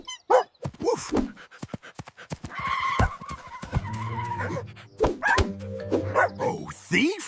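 Cartoon dog barking on a farm, voiced in repeated close, loud woofs with skidding and music-like tones between, mixed with character speech throughout; the barking appears to be a voice imitation.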